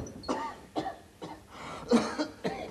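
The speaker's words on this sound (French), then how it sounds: "Mais tu t'entends comme tu tousses." A person coughing repeatedly in a comedy sketch, a series of about five harsh, wet bursts spaced irregularly, close and moderately loud, with no talk over them.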